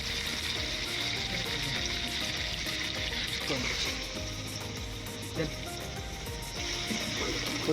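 Chopped onions frying in hot oil in a pot while being stirred, cooked outdoors for a picnic duck curry; a steady, dense sizzle runs throughout with occasional scrapes and clinks of the stirring spoon.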